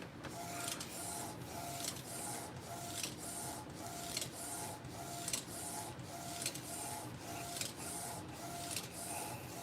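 An Epson 3880 inkjet printer prints a direct-to-film transfer. Its print head shuttles back and forth in a steady, regular rhythm, each pass giving a soft whirring sweep over a constant mechanical hum, heard close up with no talking.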